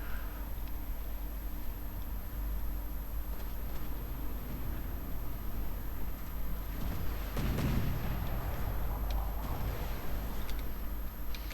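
Warship guns in From The Depths fire during an Italian navy battle in a narrow channel, a heavy blast breaking out over a constant low rumble, followed by crackling bursts and scattered pops, with no voices.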